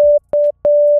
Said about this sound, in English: This is a sine wave, sounds like this